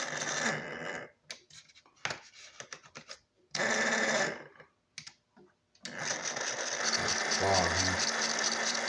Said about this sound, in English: So that's just a little can motor from a toy in there running a gear.